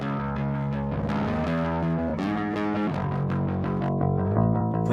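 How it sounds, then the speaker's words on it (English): Music runs through a heavy distortion effect from a free VST plugin, giving a dense, saturated, buzzing tone with continuous chords at steady loudness and no talking. "A lot of distortion."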